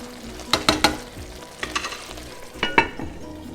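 Eggplant and potatoes cook in a pan with a soft steady sizzle, broken by a few sharp close clinks and scrapes of a spoon against the pan.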